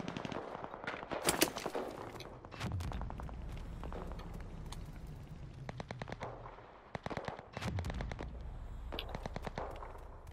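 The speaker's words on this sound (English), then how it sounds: "I hear shots, but I don't see the people taking the shots" Gunfire in a video game: bursts of rapid automatic shots and single cracks, loud and near, recurring across the scene over a steady low rumble.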